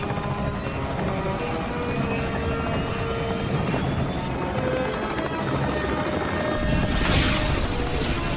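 Helicopter rotor and engine noise in an action disaster film, a steady loud droning roar throughout with a brighter whine and rushing burst near the end, no talk.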